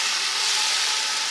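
Onion paste hitting frying garlic in a pan for beef paya gravy, giving a steady, close, bright hiss with no voices.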